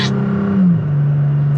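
A 2023 Toyota Tacoma TRD Pro with a six-speed transmission drones loudly and steadily under load while towing up a steep hill, its pitch dipping slightly as the engine settles.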